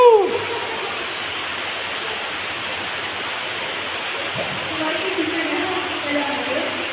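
Water pours down like a shower inside Lobo Cave's underground river, a steady broad rush that fills the cavern close by, with a brief voice at the start.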